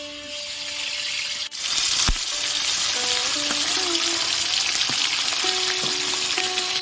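Katla fish sizzles loudly in hot salted oil in a continuous crackle, with faint tonal beeps and a melody drifting in the background.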